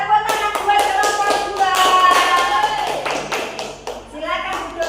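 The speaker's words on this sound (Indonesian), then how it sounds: "tepuk tangan buat kelompok" A classroom of students claps for a discussion group in an Islamic religious education lesson, a rapid patter of hand claps and taps mixed with overlapping voices and children's chatter.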